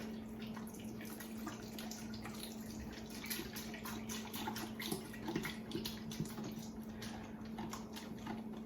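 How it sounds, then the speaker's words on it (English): Broth poured from a carton into a pot for a simple tomato soup, a steady close liquid splashing and trickling that runs without break for several seconds, with no talking. "Just gonna open up all my broth here, throw all that in"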